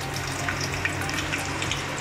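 Steady close sizzle of garlic frying in hot oil in a pan, a continuous hissing crackle with no talking.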